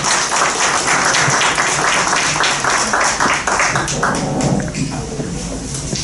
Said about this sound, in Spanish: Lo recibimos con fuertes palmas para dar inicio a la charla.